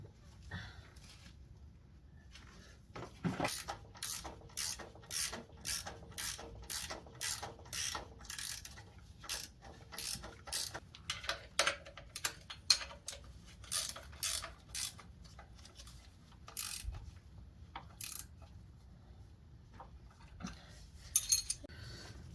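Bolts being fitted to a gearbox engine mount during a K24 engine swap into a Fiesta ST150: a long run of rapid, evenly paced ratchet clicks in close, quiet bursts, pausing now and then, with a few metallic clinks.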